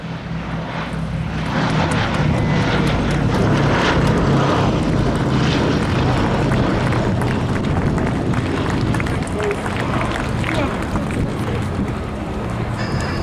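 The Boeing B-17 Flying Fortress Sally B makes a low display pass with smoke on two engines, its piston engines and propellers giving a loud, sustained droning roar that swells and holds throughout.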